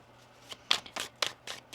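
Tarot cards are shuffled by hand during a reading, a quick run of six or seven crisp riffling snaps spaced about a quarter second apart, close and clear with no talking.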